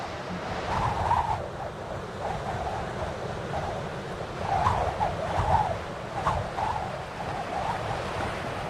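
Wind lashes the storm-whipped surface of the Mediterranean Sea, a continuous rushing roar of waves and gusts with swelling surges, heard alone without voices.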